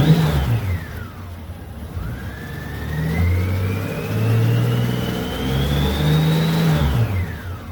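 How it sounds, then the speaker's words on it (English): A Honda GL1800 motorcycle engine idling during a coolant change, then revved up and held for several seconds before dropping back, loud and close with a rising and falling whine. "Sometimes you rev her up a little, you'll see a little more action,"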